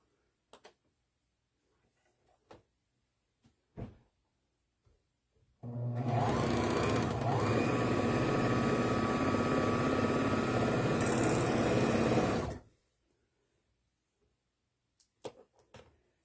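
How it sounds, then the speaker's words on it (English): A sewing machine stitches the side seams of a breastfeeding bra. It gives one continuous rapid whirring burst of about six seconds, close and clear, with quiet handling clicks before and after. "And then you're going to sew the sides."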